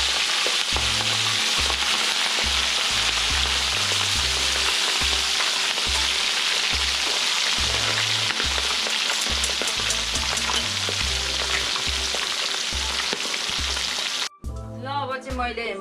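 Fish fries in a pan for a Nepali-style fish curry, a loud continuous sizzle with bubbling crackle over a repeating low thumping beat, ending with a brief change near the close.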